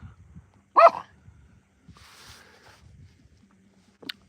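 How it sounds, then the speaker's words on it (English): A dog gives one loud, sharp bark, followed by quiet background noise and then a short, faint yip. "the giant bark."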